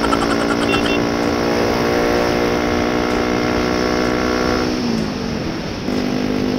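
Sustained engine drone from a motorcycle, a steady harmonic hum that holds near and fairly loud, then drops and shifts pitch briefly before resuming, with no talk over it.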